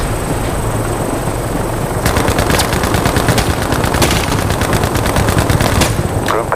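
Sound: gunfire from video game Battlefield Mobile

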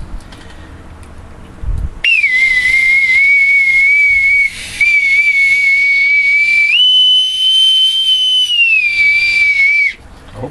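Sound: bosun's whistle being piped

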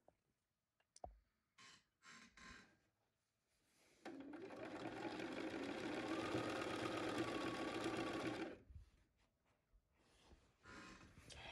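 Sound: sewing machine stitching a cloth napkin hem

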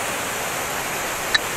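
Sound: waterfall rushing

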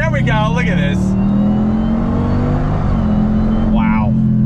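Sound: Dodge Durango Hellcat SUV accelerating on throttle

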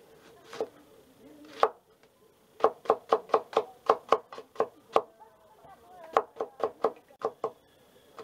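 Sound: chopping onions on a cutting board

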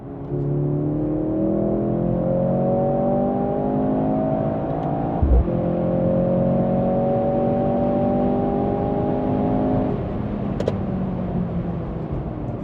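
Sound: Mercedes-AMG C63 S E Performance Estate artificial engine sound

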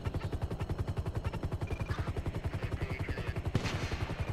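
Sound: gunshot from video game Grand Theft Auto 5

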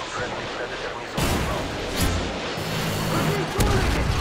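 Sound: Predator missile explosion in video game Modern Warfare 2

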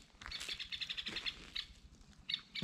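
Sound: bird calling excitedly in a burnt forest

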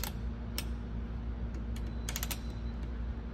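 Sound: ratchet mechanism clicking on Snap-on creeper

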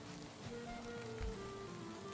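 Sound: rain falling in the video game Valheim

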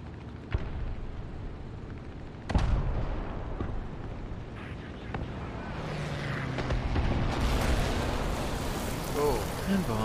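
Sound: bomb explosion in a video game tank battle

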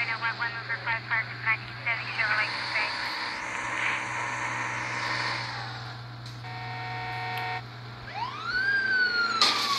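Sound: police siren chasing player in video game GTA V mobile

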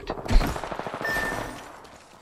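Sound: enemy gunfire in a video game

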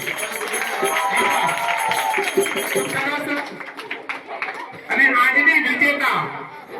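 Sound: school audience clapping for the second-place team

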